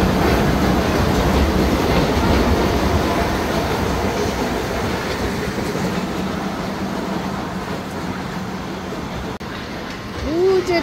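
A small park train with a coal-style engine at Golden Park in Narsingdi rolls past in a loud, continuous rumble with rhythmic wheel clatter that fades slightly toward the end, while people talk faintly underneath.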